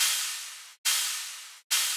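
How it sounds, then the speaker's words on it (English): Cymbal samples from the Devastator sample pack: three bright, hissy crashes in a row, each decaying for under a second before the next strikes, heard alone with no talking. "And together the cymbals sound like this."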